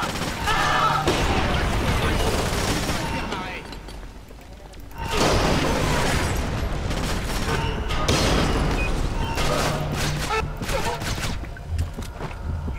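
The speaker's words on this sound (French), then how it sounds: "Grenade frag." A frag grenade bursts amid loud gunfire in Splinter Cell Conviction. Heavy blasts and shots crowd the scene, easing briefly before the noise swells again.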